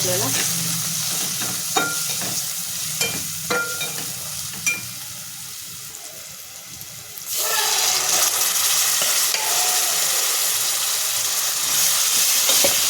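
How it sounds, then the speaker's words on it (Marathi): Cooked wild leafy greens sautéed in a pan with goda masala, asafoetida, turmeric and chilli spice: a spoon scrapes and stirs in uneven strokes at first, then a loud, steady sizzle and hiss takes over, close and with no voices. "आपल्याला भाजी जी शिजून घेतलेली आहे ती आपल्याला परतून घ्यायची आहे"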